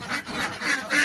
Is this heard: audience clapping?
no